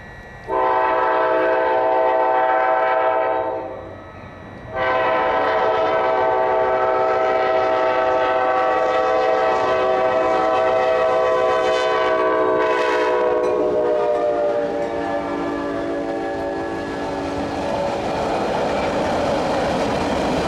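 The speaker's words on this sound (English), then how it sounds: "Here we get a great view of this gorgeous train cruising over Caddo Lake." A KCS/CPKC train rumbles past loudly while crossing Caddo Lake, a sustained horn blaring in long blasts, wheels clattering beneath, continuous and close throughout.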